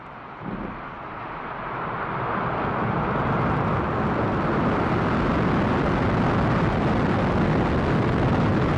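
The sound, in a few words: SpaceX Falcon 9 rocket engine ignition and liftoff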